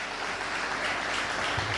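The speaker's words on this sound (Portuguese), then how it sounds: "Então, aplausos para eles, por favor." Audience applause on an Angolan TV show, a steady, dense wash of clapping from a crowd held at an even level throughout, with no voices over it.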